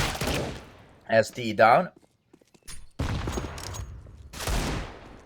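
Gunfire in a tactical shooter esports match, bursts of shots cracking amid excited commentator talk, with a brief lull before more firing.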